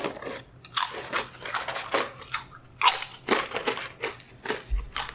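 Close biting and crunchy chewing of buffalo drumsticks, a run of repeated crisp crunches and mouth sounds over a few seconds with no talk.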